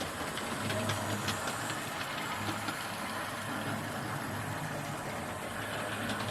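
A Hornby model train locomotive running around its track, a steady faint whirring rumble with light rhythmic clicking from the rails, continuous and even throughout with no voices.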